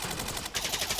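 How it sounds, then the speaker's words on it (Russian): Rapid automatic gunfire in GTA V on the RageMP multiplayer server, a steady stream of close, sharp shots with a short gap partway through. "Патроны закончились, 300 выстрелов"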